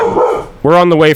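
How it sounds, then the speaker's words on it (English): A dog named Noodle gives one loud, close, sharp bark right after a man's brief spoken words, the bark cutting in over the end of his talk. "Pardon my dog barking."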